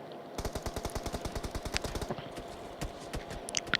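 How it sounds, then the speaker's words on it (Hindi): Rapid automatic gunfire in a video game rattles off in a fast burst, followed by scattered single shots and clicks, loud and close. "इस तरफ से मेरे पे गोली चलती है"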